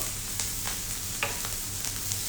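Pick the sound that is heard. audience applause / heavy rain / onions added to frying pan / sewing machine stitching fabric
onions added to frying pan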